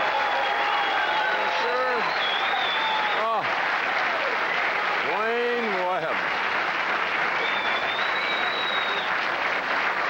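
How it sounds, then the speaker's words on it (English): A bowling crowd in Milwaukee at the 1985 PBA Lite Beer Championship keeps up loud, continuous applause while someone talks over it in brief bursts. "Listen to this crowd."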